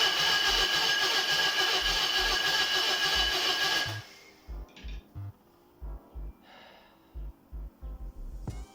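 A junkyard Zaporozhets engine is cranked by its starter with fuel fed from a jerry can: a loud whirring burst at first, then a series of short separate cranking pulses with no firing.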